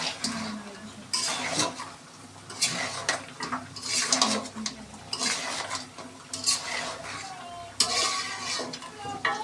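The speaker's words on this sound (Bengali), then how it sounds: "এখন মাংসগুলোকে দিয়ে দিব, মাংস তো দিয়ে দিয়েছি, নেড়ে নিচ্ছি ভালোভাবে।" Meat stirred into red-fried onions in a pot: a bubbling sizzle with repeated scraping strokes of a spoon against the metal pot, close and rhythmic.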